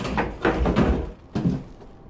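A door opening in the video game We Happy Few, a few close, heavy knocks and thuds followed by a short creak and clunk, loud and alone.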